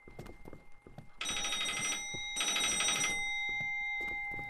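A telephone rings in the indie horror game Danny's House, two loud bursts of bell-like ringing separated by a pause, set against a quiet ambient background.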